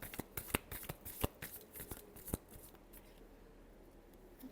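Tarot cards being shuffled make quiet, close, crisp flicks and riffling snaps in an irregular run that fades toward the end.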